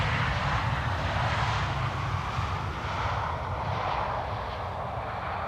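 An IndiGo airliner arrives at Amsterdam Schiphol Airport, its engines giving a steady, broad roar that holds at an even loudness throughout, with no voices.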